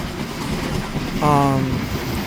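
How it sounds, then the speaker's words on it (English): Norfolk Southern freight train passing through Fostoria, Ohio: a steady broadband rumble of rolling cars, with a short tonal horn-like blast partway through, fairly loud and close. "trains go really fast, or, well, decently fast, on the Norfolk Southern side"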